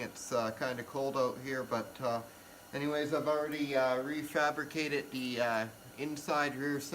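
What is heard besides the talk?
None of the usual background noises is heard.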